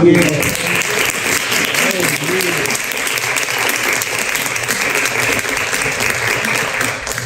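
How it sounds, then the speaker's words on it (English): A round of applause from an audience after a talk on modeling, loud continuous clapping close by, with a few voices and cheers briefly audible over it at the start. "can we give a round of applause?"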